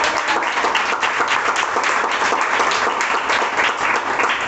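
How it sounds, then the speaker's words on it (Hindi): Loud, vigorous applause fills a church as the congregation claps for the Holy Spirit, a thick continuous rattle of many hands that stays strong throughout. "जोरदार तालियां बजाएंगे?"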